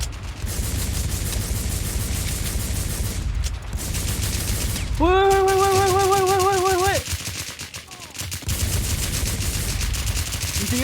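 Rapid automatic gunfire in the online zombie survival game WarZ, loud and close, rattling almost continuously with brief pauses, while a steady tone sounds midway and players talk over it.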